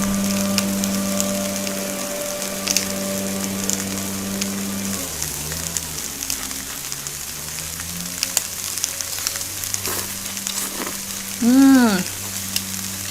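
Shrimp and pea sprouts sizzle on a hot grill in a steady, close frying hiss, with a brief louder burst near the end and no voices over it.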